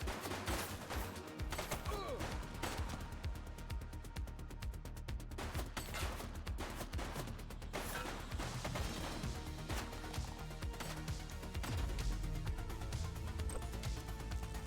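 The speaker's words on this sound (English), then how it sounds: "He's shooting!" Rapid bursts of gunfire from a police shooter game set in a city precinct, dense cracks and volleys running throughout with a crash near the end, loud and close amid a busy game soundtrack.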